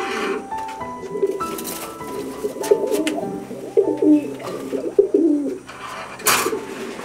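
Pigeons coo softly nearby in a loft or coop, with low repeated throaty calls and light rustling and fluttering sounds in between.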